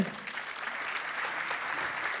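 An audience at a Paris Cloudforce business event applauds to welcome a speaker from Pierre Audouin Consultants, steady dense clapping filling the room from start to finish.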